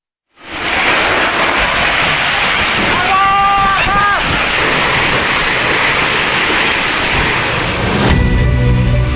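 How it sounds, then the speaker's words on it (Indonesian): Tornado winds tear through villages in Leces district, Probolinggo, East Java, as a loud continuous roar and buffeting against the microphone, with a brief tonal whine partway through. "Rekaman video amatir ini merekam saat angin puting beliung menerjang sejumlah desa di Kecamatan Leces"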